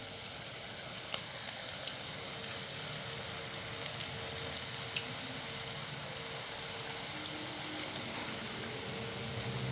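Murukku made from rice flour dough sizzles steadily in hot oil, a dense continuous frying crackle with small pops throughout and no voices.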